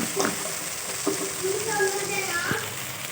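Fried mutton pieces going into a pan of tender, sizzling tomato gravy for a chicken masala style curry, a steady close hiss and frying crackle with a few soft clinks and stirring scrapes, a voice speaking over it.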